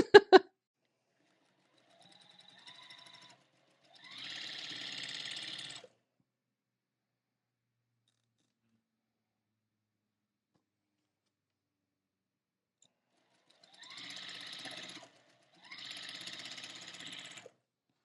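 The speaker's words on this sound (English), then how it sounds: "Take it to your machine and make sure to stitch on the right part of the fabric." A sewing machine stitches quilt fabric in short bursts: a brief run, then a longer whirring stretch, a long pause, and two more runs close together, each a fast even mechanical patter, near and quiet.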